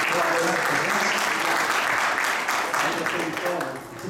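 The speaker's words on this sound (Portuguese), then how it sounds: "Palmas para ele." Seminar audience applauding a speaker at an environmental event at Unisul in Tubarão, steady dense clapping from a crowd filling the room, sustained throughout and tapering slightly at the end, with some voices underneath.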